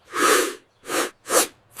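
A cartoon character sneezing in a forest, a short series of breathy bursts, close and clear, with brief silent gaps between them and no talk.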